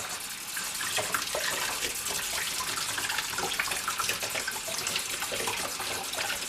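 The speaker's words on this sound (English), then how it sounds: "I'm just going to flush it right now" Water runs steadily through a part of a CatMate cat water fountain as it is flushed under a tap, a continuous hissing splash lasting several seconds with no talk.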